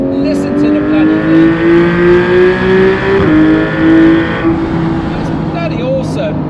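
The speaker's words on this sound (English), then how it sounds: "This flat six boxer engine, guys, just listen to the bloody thing." A Porsche 911 GT3 991.1 with a flat six boxer engine revs in a loud, close drone, climbing steadily in pitch through the gears, then dropping back, with a voice talking over it.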